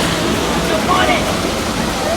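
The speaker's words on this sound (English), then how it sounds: "I love the sounds of water." Continuous rushing and splashing water in the ocean area of the Moana's Journey of Water attraction, a dense, even wash like a fountain or falling stream, with faint voices behind it.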